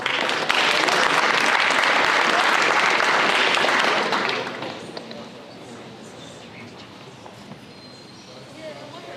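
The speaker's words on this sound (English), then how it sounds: "Please give those guys a round of applause if you would." A crowd at a high school signing day gives a loud round of applause that fades out after about four seconds, leaving quiet room noise with some murmuring voices.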